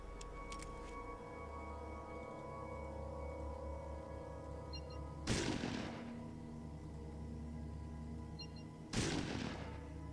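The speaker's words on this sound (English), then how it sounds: "I wonder if I could get their attention by throwing a grenade at him." Two loud, sharp grenade blasts in the game Fallout 2, several seconds apart, each a sudden broadband burst with a short rumbling tail over a steady low background hum.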